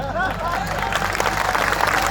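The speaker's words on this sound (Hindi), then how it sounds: "क्या बात इतनी कम तालियां।" Scattered audience clapping at a kavi sammelan poetry gathering in Varanasi, thin and brief, mixed with crowd murmur and a voice speaking over it.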